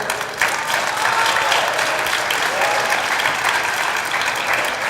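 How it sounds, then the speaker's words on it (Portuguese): A church congregation applauds at a conference: dense, steady clapping from many hands fills the space continuously and evenly, loud and reverberant, with no clear voices above it. "se é para aplaudir, aplaude direito"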